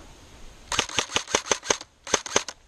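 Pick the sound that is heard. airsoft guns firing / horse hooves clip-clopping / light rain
airsoft guns firing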